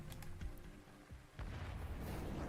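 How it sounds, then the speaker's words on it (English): A deep explosion boom in the video game Arknights, a broadband low rumble that swells in about halfway through and sustains loudly, preceded by softer thumps and clatter. "With a deafening boom, the sound of an explosion suddenly tore through the air from not too far away"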